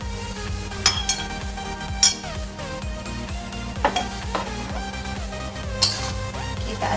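Shrimp with scallions and broccoli in oyster sauce stirred in a frying pan, soft sizzling under repeated scraping and clinking of a metal utensil against the pan, close, with no voices.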